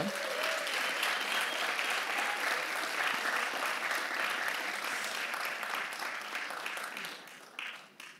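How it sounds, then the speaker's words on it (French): Steady, dense applause from an audience at a media and information education awards ceremony as nominees head to the stage, even and fairly distant, tapering off in the last second. "On peut les applaudir, ils montent sur scène."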